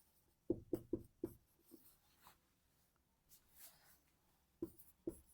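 Chalk or marker writing on a board during a Class 9 physics lesson: a quick run of short tapping strokes, a pause with faint scratching, then two more taps, all close and fairly quiet.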